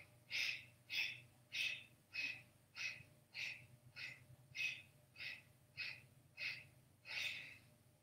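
Kapalabhati yoga breathing: a steady series of about twelve sharp, forceful nasal exhales, evenly spaced roughly every 0.6 seconds, close and moderately loud over a low background hum.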